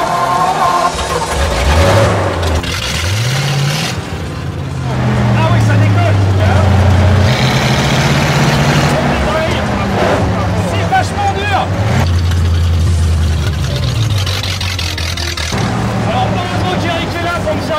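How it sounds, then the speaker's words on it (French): A tank driven across a museum parking lot, its engine rumbling and revving in rising and falling surges throughout, with people talking over the noise. "Direction le parking du musée pour un premier cours de conduite de tank."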